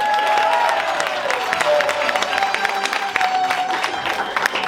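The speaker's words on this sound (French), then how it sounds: "on peut les applaudir bien fort" A television studio audience at a game show applauds loudly, a dense wash of many hands with some cheering and a host's voice running over it.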